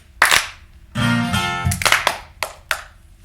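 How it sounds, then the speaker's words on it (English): A few sharp hand claps ring out at the start, then a burst of music chords sustains, followed by several more separate claps from an audience, fairly close and loud. "I want you to clap your hands"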